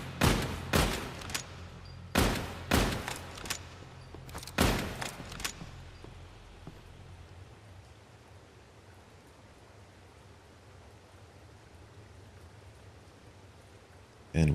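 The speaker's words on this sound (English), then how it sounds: "So if I'm using the revolver, what do I want? Just fire, right?" Revolver fire in a video game: several loud bursts of gunshots in quick clusters over the first few seconds, then a long stretch of steady hissing noise.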